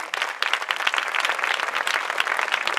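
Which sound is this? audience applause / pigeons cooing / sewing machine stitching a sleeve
audience applause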